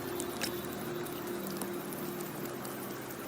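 Rain falls in Septimont in the Wuthering Waves video game, a faint, even patter with a few scattered drips over a low steady hum.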